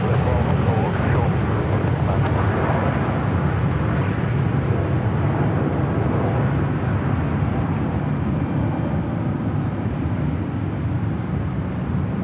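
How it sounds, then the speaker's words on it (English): A heavy Airbus airliner departing LAX roars as a loud, continuous, rumbling jet noise that stays broad and steady throughout, close by, with no other sounds rising above it. "Heavy Airbus departing off the left"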